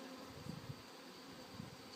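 Honeybees buzz steadily around an opened hive, a dense continuous drone with a few louder bees passing close by, no talking.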